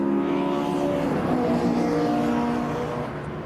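Classic touring cars race past on a circuit during qualifying, a continuous engine roar with harmonic drone held at steady loudness, easing off slightly near the end as they move away.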